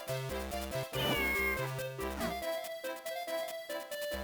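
A cat meows from the Minish Cap video game, a short rising chiptune-style cry over the looping game music, with no talk.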